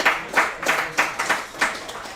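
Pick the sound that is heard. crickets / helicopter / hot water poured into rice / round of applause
round of applause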